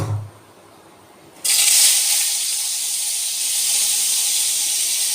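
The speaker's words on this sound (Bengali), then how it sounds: "চিংড়ি মাছগুলো নুন হলুদ মাখিয়ে ভিনিগারে ভিজিয়ে রেখেছিলাম, এবার একটু ভেজে নেব।" Prawns rubbed with salt and turmeric and soaked in vinegar hit hot oil with a sudden loud hiss after a quiet start, then keep up a strong, steady sizzle.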